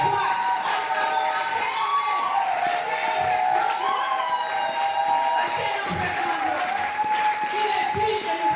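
Church congregation applauding and cheering during worship, continuous clapping mixed with shouts and voices over a sustained tonal background, with people talking and calling out throughout.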